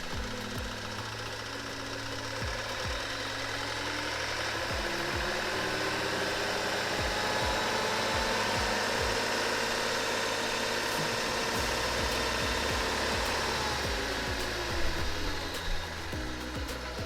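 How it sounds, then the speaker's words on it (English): Diesel motor of a GAYK solar pile driver idling steadily up close, a continuous low rumble with a regular knocking pulse throughout and a brief louder clatter near the end, with no voices. "this is a diesel motor, so it has glow plugs just like any other diesel motor"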